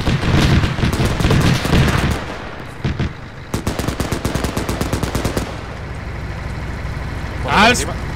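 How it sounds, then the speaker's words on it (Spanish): Rapid bursts of automatic gunfire in Arma 3 rattle in quick, repeated volleys, loud and close, with brief pauses between bursts and a whooshing sweep near the end. "Sí, los disparos."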